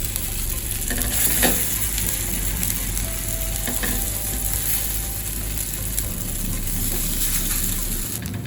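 Rava moong dal pieces sizzle steadily in shallow oil with mustard seeds on a hot griddle, a constant crackling hiss with occasional faint pops, close up and uninterrupted.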